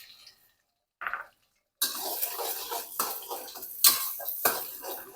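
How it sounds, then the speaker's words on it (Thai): A brief sizzle as eggs hit hot oil, then steady loud stir-frying with scraping and clinking of a utensil against a pan, close up, no voices. "ใส่ไข่ลงไปผัดค่ะ"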